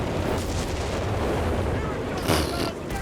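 Walking Stuka rocket barrage striking a mortar pit in Company of Heroes 3, a dense rumbling roll of explosions under steady game battle noise, with a louder blast burst near the end.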